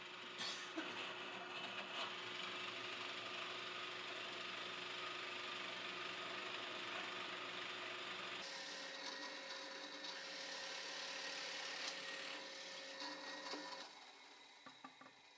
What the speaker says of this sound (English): Over at the drill press, I used a Forstner bit to drill a hole at the end of the handle.